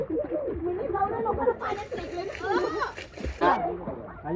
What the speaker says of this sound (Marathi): असं पाणी वाजता